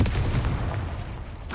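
A Confringo blasting spell detonates in the video game Hogwarts Legacy, a heavy booming explosion with a rumbling tail that fills the short moment, loud and close.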